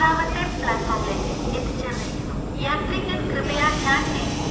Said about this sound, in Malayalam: ഇപ്പുറത്തുനിന്ന് കേരള എക്സ്പ്രസ് വരുന്നുണ്ട്.